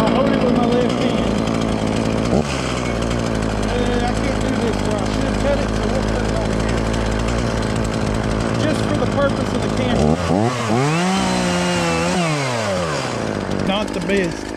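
A loud ECHO CS450P chainsaw runs close by, steady and droning, then bogs down and revs back up as it bites into wood near the end.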